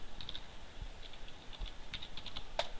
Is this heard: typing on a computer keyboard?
yes